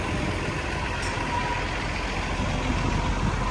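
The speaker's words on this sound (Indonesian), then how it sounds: "bus-bus jemaah umroh yang baru datang ya" Buses carrying newly arrived umrah pilgrims rumble and idle nearby in a street near Mount Uhud, a steady broadband engine drone with no pauses and no talk.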